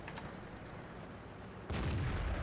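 A tank's artillery shell fired in World of Tanks: one sudden loud low boom near the end of a quiet stretch, then a sustained rumbling tail.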